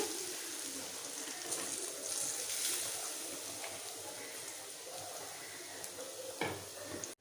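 Mustard seeds, curry leaves and grated beetroot fry in a pan with a soft, steady sizzle and occasional stirring clinks, quiet and continuous without voices.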